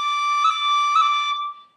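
Low D finger pips on a tin whistle in six-finger D position: a sustained high tone with two brief articulating taps, played close with no voices.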